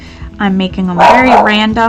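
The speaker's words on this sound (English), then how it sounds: "Sorry about my dog." A pet dog barks and yips in short bursts close by, mixed in with a person talking steadily over it.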